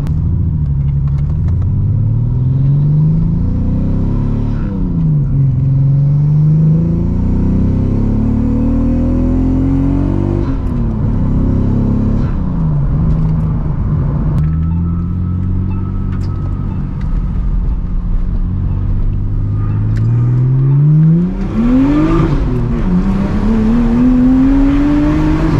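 A loud, raspy straight-piped exhaust on a Nissan Skyline R34 roars continuously, rising and falling in pitch as the engine revs up through several hard accelerations, heard close from inside with the windows down.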